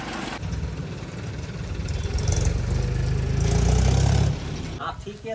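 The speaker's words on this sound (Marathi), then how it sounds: "हे जे जनरेटर आहे, जनरेटर चालते आहे." A petrol generator runs steadily to power juice extraction, a continuous mid-to-low engine drone that swells slightly before easing off near the end, with background talk mixed in.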